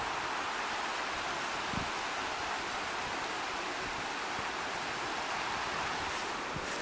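Steady water of a stream flowing beside a cold November wilderness campsite in Cranberry Wilderness, West Virginia, a soft continuous broadband rush at even level with no voices.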